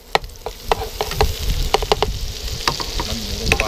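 Pork lard sizzling and frying hot in a wok for a Thai stir-fry of beef with pickled bamboo shoots and fresh chilies, a steady crackle broken by repeated metallic clanks and scrapes of a spatula, close and fairly loud.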